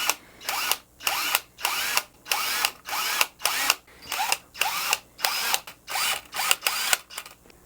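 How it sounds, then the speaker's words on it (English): A power drill bores side dot holes into a guitar fretboard in a custom build, about a dozen short high whining bursts in a steady rhythm with brief pauses between them, loud and close with no voices. "Let's get these side dots drilled in."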